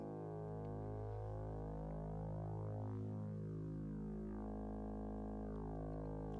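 Sustained modular synthesizer oscillator drone, driven by bank A of a Keen Association Quad Transevent Generator 282e, buzzy and harmonic, with gently warbling overtones that shift midway; continuous and alone, no speech.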